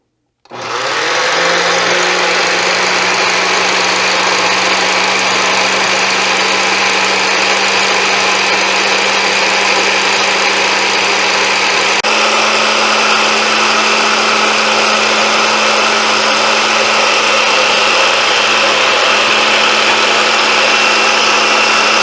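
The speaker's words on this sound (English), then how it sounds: "we want to slowly add this in a constant stream as the blade goes on the food processor" A food processor whirs steadily and loudly with its blade spinning while oil streams in for lemon aioli, a constant motor drone that shifts slightly in pitch partway through and runs alone without talk.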